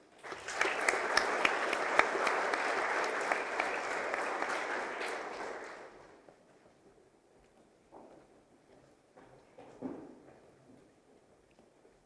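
Audience applauding students at a school award assembly: a dense, steady burst of clapping for about six seconds that fades out, followed by quiet room noise with a few faint thumps.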